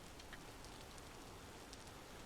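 Steady rain falls in the video game Vintage Story, a soft continuous hiss of drops on surfaces at low volume throughout, with no voices.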